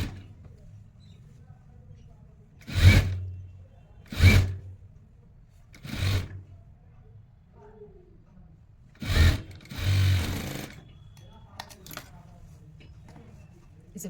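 A sewing machine runs in five short bursts, stitching the sleeves of a stretch-fabric T-shirt, each whirring run lasting about a second with quiet pauses between, close and clear.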